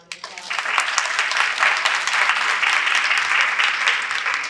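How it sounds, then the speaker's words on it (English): Audience applause at a community philanthropy event, a dense wash of clapping that rises quickly and holds steady for several seconds. "So one more round of applause."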